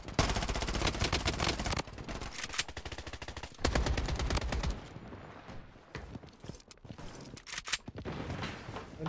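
Dense, rapid gunfire in the Blood Strike shooter game, with sustained automatic bursts and overlapping shots filling most of the stretch, briefly thinning in places before resuming loud and busy.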